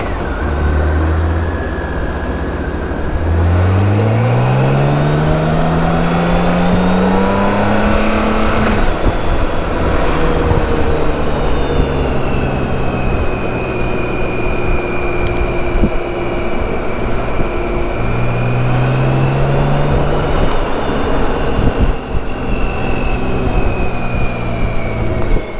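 A BMW K1600 GTL touring motorcycle rides through Barcelona streets, its engine note rising and falling steadily through gear changes with a clear pitch sweep early on, loud and close, mixed with wind and city traffic and no talking.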